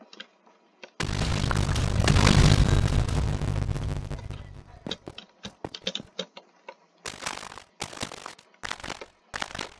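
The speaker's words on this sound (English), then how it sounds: "The reactor core blew up. Oh, that's quite a big explosion." A reactor core explodes in an underground facility in a video game, a long, loud roaring blast that fades into scattered crackling bursts and pops.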